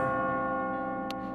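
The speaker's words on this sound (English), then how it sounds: "As you near the top, you will hear a bell ringing." A bell rings near the top of a climbing stage in the video game Catherine, a sustained ringing tone with rich overtones that slowly fades, with a brief bright click near the end.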